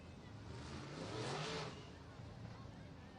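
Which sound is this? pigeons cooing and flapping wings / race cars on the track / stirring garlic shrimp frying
race cars on the track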